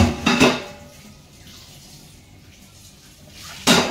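Dishes are washed under a running kitchen tap, with close bursts of water splashing and clattering utensils at the start and the end and a quiet stretch in between.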